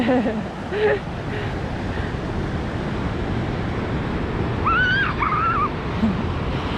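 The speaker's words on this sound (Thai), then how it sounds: "ย่าไปใกล้น้ำนะลูกเพราะว่าคลื่นมันแรงมากเลย" Strong ocean surf rolls and washes continuously onto a beach, a broad steady roar with wind noise on the microphone, while someone speaks over it.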